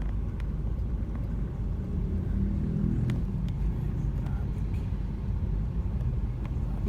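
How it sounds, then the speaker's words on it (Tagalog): Slow, crawling road traffic near a town fiesta for Apu Sto Cristo, heard as a steady low vehicle rumble with engine drone, continuous and moderately loud, with a few faint clicks on top. "Traffic talaga."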